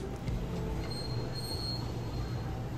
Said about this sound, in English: Docklands Light Railway, coming in.